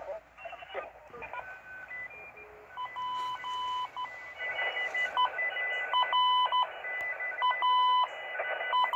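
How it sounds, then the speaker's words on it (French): Slow Morse code received on an HF radio near 7.0 MHz: a single steady tone keyed on and off in long, unhurried dots and dashes over a thin hiss of band noise. "donc ça c'est du morse mais de version en mode très lent"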